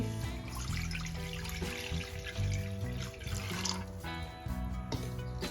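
Water pours in a steady trickling stream into a metal wok, splashing and gurgling softly nearby without any talking.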